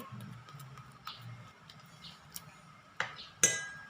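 Metal spoon clinks and scrapes against a container while handling sticky pink slime, a few soft taps followed by two sharper, louder clinks near the end, close and without talk.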